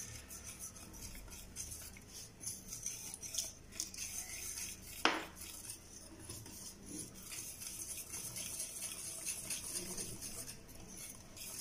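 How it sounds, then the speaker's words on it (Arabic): Hand whisk mixing cake batter in a bowl, a steady scraping and tapping against the bowl sides throughout, with one sharper clink midway; no talking. "وانا كنحرك بالخلاط اليدوي باش كتمزج العناصر مزيان"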